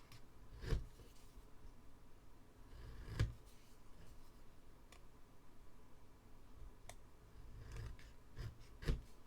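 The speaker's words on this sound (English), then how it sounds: "I'm just going to cut that white off." Scissors snip white paper away from a scrapbook card, a few short crisp cuts spaced apart against a quiet background.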